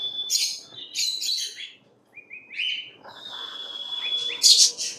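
Ringneck parrots in a bird shop give shrill chirps and squawks in bursts, close by, with a longer whistling call near the end and no talking.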